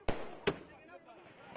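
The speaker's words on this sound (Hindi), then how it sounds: "पटाखा फोड़ते" Two sharp firecracker bangs go off close together, then a third near the end, with voices murmuring between the bursts.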